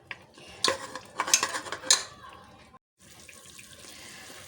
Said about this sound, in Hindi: अब इसमें गोश्त गलने के लिए पानी डाल देंगे ताकि हमारा गोश्त अच्छे से गल जाए।